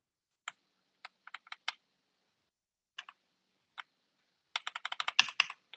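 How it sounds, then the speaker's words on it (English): Arrow keys on a computer keyboard clicking: isolated single taps and short pairs spread apart, then a fast burst of repeated presses near the end, close and clear in a quiet room. "I would just use the arrow keys unless you know the exact number."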